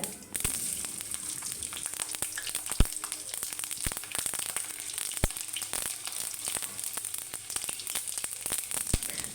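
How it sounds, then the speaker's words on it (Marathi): Garlic frying in hot oil with cumin and mustard seeds makes a steady, close, bright sizzle, broken by sharp spits and crackles throughout. "आता जिरं मोहरी चांगली तळतळली त्यानंतर आपण त्याच्यात लसण घालूया"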